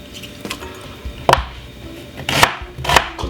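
A knife chops a white onion into very small pieces on a board, several loud close thuds at uneven spacing, some in quick bursts, with no voices.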